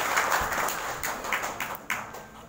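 An audience at a Maulid Kebangsaan religious gathering applauds at night, a fairly faint, uneven burst of clapping that fades out over a couple of seconds, with a hint of voices.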